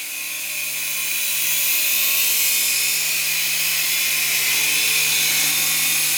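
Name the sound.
S107 RC helicopter hovering indoors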